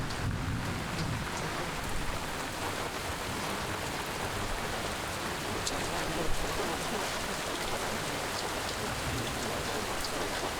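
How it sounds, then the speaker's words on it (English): Steady rain drumming outside a boat sheltered at a shallow anchorage during a tropical storm's outer bands, a dense continuous hiss with wind, close and even, with occasional louder drops and no talk. "rain's not that bad and the wind is not bad when we're in here"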